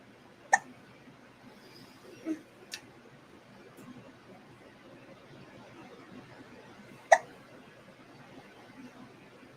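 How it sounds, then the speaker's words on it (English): A baby's hiccups sound in short, sharp bursts, about three or four of them spread over several seconds. They are faint and isolated against a low, steady background murmur. "so now he's got hiccups"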